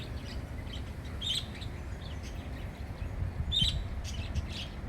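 Caged birds in an aviary at the Davanagere zoo give a few high, thin chirps in scattered bursts over a soft, steady background murmur.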